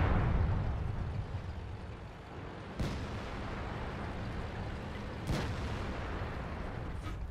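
Tank cannon shots boom in the World of Tanks video game, with two sharp blasts a few seconds apart over a continuous low rumble of engines and battle ambience.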